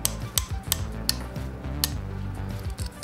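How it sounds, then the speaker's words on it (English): Hammer tapping a small metal piece gripped in pliers while bending it for a movable coil tap: several sharp metallic clinks at irregular intervals, close and fairly loud over a steady low background hum. "put it in the pliers, and then I'm gonna tap with the hammer just to get it started bending a little bit."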